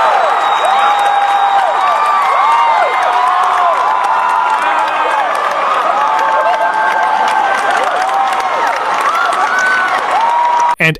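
A theater crowd greets Harrison Ford with sustained loud applause, cheering and scattered whoops, a dense steady wall of clapping that cuts off abruptly at the very end.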